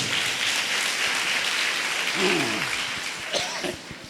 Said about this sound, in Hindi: ताली बजाए परमेश्वर को धन्यवाद दे